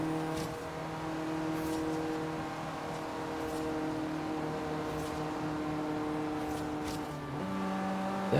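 A race car engine in Forza Motorsport 3 drones steadily at high revs, close and loud, then dips and climbs again near the end as the driver shifts down a gear.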